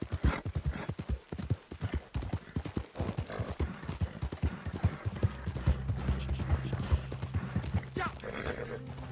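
Rapid hoofbeats of a galloping horse in the video game Red Dead Online pound steadily and close up, with a snort near the start and a low mechanical hum joining later.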